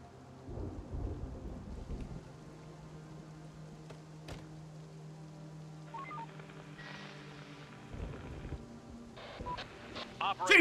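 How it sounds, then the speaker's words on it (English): Video game storm: steady rain with low rolling thunder and occasional electronic tones, a voice-like radio crackle mixed in over the storm. "Unfortunately, it's raining, so anything can happen."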